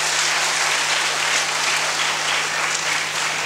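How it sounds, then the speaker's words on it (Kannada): Audience applause at a stage magic show in Mangaluru: a dense, steady burst of many hands clapping together, loud and close, with no talk over it. "ವೇದಿಕೆ ಮೇಲೆ ಬಂದಿರುವಂಥ ಪ್ರೇಕ್ಷಕರಿಗೆ ನಿಮ್ಮ ಚಪ್ಪಾಳೆ ಸ್ವಾಗತ"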